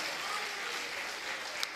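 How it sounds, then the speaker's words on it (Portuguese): A church congregation applauds in a sustained, even wash of clapping that stays steady throughout, with a faint murmur of voices in the room. "Você pode aplaudir ao Senhor?"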